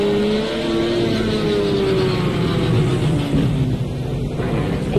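A race car engine in a driving video game drones loud and steady, its revs rising and flaring through the gearbox with a continuous buzzing whine and no pauses.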